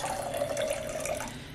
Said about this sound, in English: You're going to take some fresh water. You're going to pour it over your seeds.